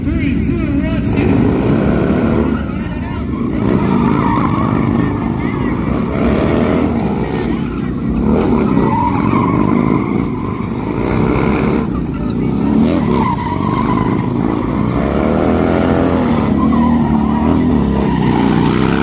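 Drift motorcycles race at a Buffalo Chip drag event, engines roaring continuously with skidding, squealing tires throughout, while an announcer and crowd voices carry over the loud, dense racket.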